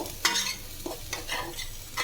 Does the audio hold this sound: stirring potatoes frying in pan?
yes